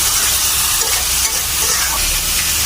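Eggplant fries in a pan of hot oil in a home kitchen. A continuous loud sizzle and spatter is broken by occasional scraping stirs, and no one speaks.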